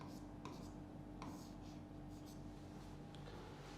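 Writing on a board during a physics lecture: faint, quiet strokes and short scratches spaced irregularly against a low room hum.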